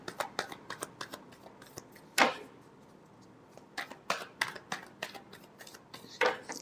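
Tarot cards being shuffled by hand close up: a quick run of light papery riffles and taps, a sharper slap of the deck, then more soft irregular card flicks, quiet and with no talking.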